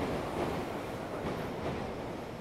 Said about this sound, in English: the train's passing by